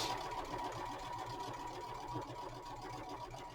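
A sewing machine stitches a tote bag strap at a quarter-inch seam, a steady close mechanical whir with rapid needle ticking that runs evenly throughout, with no talking.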